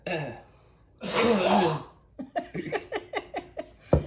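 A heavy, breathy exhale is followed by a rapid run of short, hacking coughs, close and fairly loud, fading toward the end.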